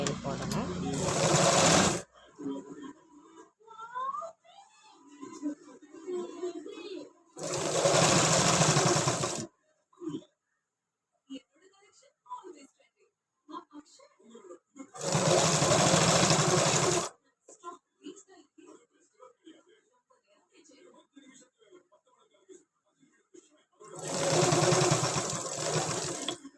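Sewing machine stitching a small child's tracksuit, running in four loud bursts of about two seconds each, spaced apart, with someone talking in the gaps between runs.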